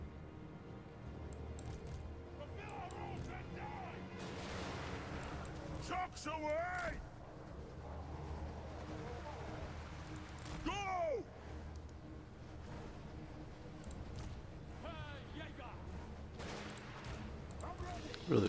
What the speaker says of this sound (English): Nice, the cannons are starting to chip away.